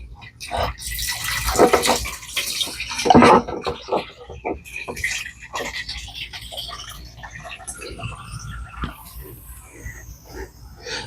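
Tap water pours and splashes into a garden pump sprayer that will get Dawn dish soap for crape myrtle care, running in bursts with drips and clatter, loudest early on, while a person talks over it.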